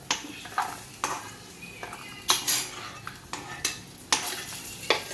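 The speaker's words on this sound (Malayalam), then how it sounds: "ശേഷം അണ്ടിപ്പരിപ്പും മുന്തിരിങ്ങയും വറുത്തിടുക" A metal spoon scrapes and clinks against a pan in quick repeated strokes while cashews and raisins sizzle softly in hot ghee; close up, no voices.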